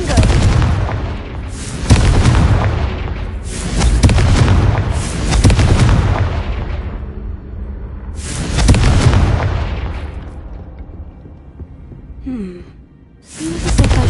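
Confringo explosive spell cast in Hogwarts Legacy, a series of loud booming blasts, each swelling and rumbling away before the next, about five detonations spread across the stretch with a short gap near the end.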